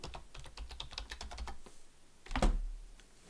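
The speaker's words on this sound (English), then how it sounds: "you'll have to type in your authentication" Rapid keystrokes on a computer keyboard as a password is typed, a quick run of light clicks followed by a brief pause and a louder, heavier key press near the end.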